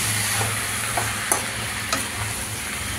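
Tomatoes are stirred and sautéed in a pan for a spicy tomato thecha, with a steady close sizzle and soft scraping stir strokes; no one speaks.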